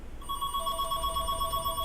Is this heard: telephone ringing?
yes